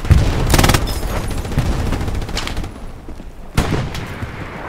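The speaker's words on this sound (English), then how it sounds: "Everyone hide, there's a bombing run." Bombing run in the Hell Let Loose video game: loud, dense bursts of gunfire and heavy explosive booms roll together, then ease briefly before another sharp blast hits near the end.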